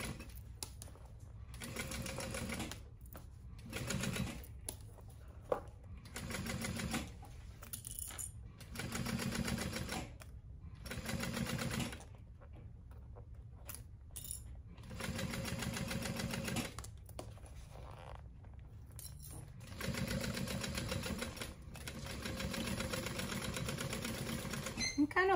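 Home sewing machine back stitching the thick side seams of a crossbody bag, running in several short bursts with brief pauses between them, close and steady.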